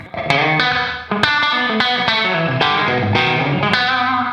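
An electric guitar plays through a Revv D20 amp on its loft reverb setting, with a run of bright, slightly driven strummed chords and a lively room tail behind each stroke.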